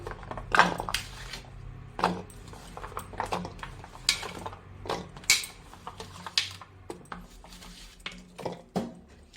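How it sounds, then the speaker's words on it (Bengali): Guavas tumbling into a bowl while preparing a spicy Bengali fruit mash, giving a string of close, sharp clinks and knocks of fruit and utensils against the dish, irregular and without talk. "পেয়ারাগুলো আমি বাটিতে নিয়ে নেব"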